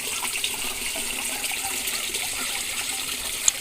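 Steady trickling water runs continuously close by in a small garden pond, a bright bubbling flow with no pauses and a small splash near the end.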